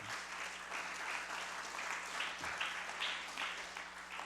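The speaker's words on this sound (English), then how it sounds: "If we can give him a round of applause also" Steady applause from a crowd at a legislative session, even and sustained throughout, heard at a distance in a large room with no voices over it.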